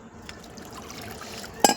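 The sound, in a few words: pouring cold water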